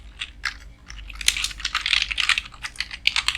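Text being typed on a computer keyboard during a Microsoft Word class: brisk, irregular clicking keystrokes close to the mic, several in quick clusters, over a low steady hum, with no talking.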